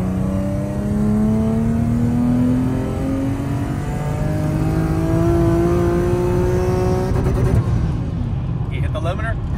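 A Nissan car engine (370Z, G37, Q50, Q60, GT-R or 350Z family) in third gear at full throttle during a tuning datalog, its pitch climbing steadily as revs rise to the rev limiter, which cuts in near the end, close and loud throughout.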